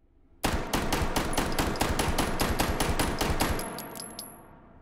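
A gun fired in the VR game Hot Dogs, Horseshoes & Hand Grenades: a rapid close burst of about fifteen loud evenly spaced shots with a ringing tail, no talking.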